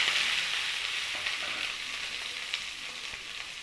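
Shallots sautéing in hot oil with mustard seeds for a clam meat dish, heard as a bright continuous close sizzle with a few faint stirring scrapes.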